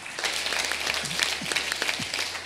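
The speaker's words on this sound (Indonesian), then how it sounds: "Haleluya, tepuk tangan dulu." A church congregation applauding during a Sunday service, dense steady clapping from many hands in a room, lasting throughout at moderate loudness.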